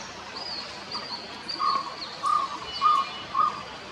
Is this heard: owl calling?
yes